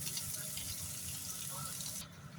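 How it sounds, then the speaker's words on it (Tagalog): A small splash of water pours into a hot pan holding ground pork, sautéed garlic, onion and potatoes in oil, giving a steady rushing hiss that cuts off near the end. "Lagay lang ako ng konting tubig guys"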